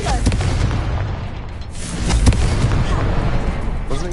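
A Confringo blasting curse in Hogwarts Legacy explodes as a loud, rumbling boom with crackling bursts inside a dense wash of game noise and spell effects.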